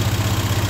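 An MG Midget engine runs after an electronic ignition install, a loud, close idle with a steady rapid low pulsing throb.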